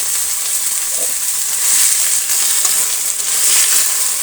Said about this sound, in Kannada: ತರಕಾರಿನ ಚೆನ್ನಾಗಿ ಫ್ರೈ ಮಾಡ್ಕೋಬೇಕಾಗತ್ತೆ.